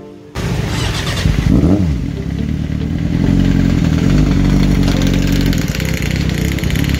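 Suzuki GSXR 600 motorcycle engine starting up, then revving and running loudly and close by, with a steady rough roar and rises in pitch. No talk.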